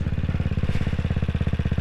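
A motorcycle engine runs steadily just after starting, a loud, close, evenly pulsing idle with a fast regular beat, outdoors on a breezy day.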